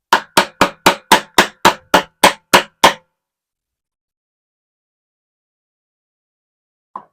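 A mallet strikes a chisel to chop waste out of wood, ten sharp evenly spaced loud knocks in quick succession, then silence and one last isolated hit.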